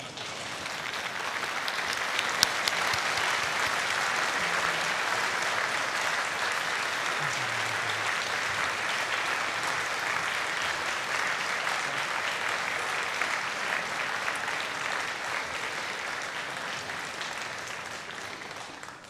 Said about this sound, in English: Please stand and turn to your family and friends and applaud them for your support.